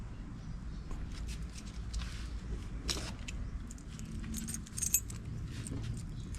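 Keys for a restored 1983 BMW R100RT motorcycle jangle and clink close by, a quiet run of small metallic rattles with a few sharper chinks.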